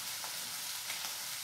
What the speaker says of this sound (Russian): фасоль у нас с одной стороны обжаривается, вон как кипит